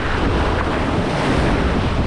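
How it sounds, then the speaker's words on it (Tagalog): Large ocean waves surge around an island amid strong wind buffeting the microphone, a dense, loud, continuous roar with no voices. "Sabing lalaki talaga ng alon."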